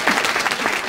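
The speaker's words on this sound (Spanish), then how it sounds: "Él es Juan Garabato, démosle un aplauso, ¿no?" A brief burst of steady applause from a crowd at a drinking water inauguration, dense and continuous, close by.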